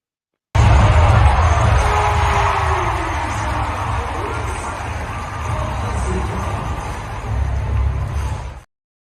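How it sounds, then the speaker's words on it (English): A basketball arena crowd of nearly 20,000 at an Aces vs Fever game fills the space with a steady roar of murmuring voices that swells slightly near the end. "Smoooth has a video of a crowd from last night, it looks like, between the Aces and Fever"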